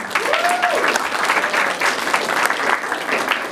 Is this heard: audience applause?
yes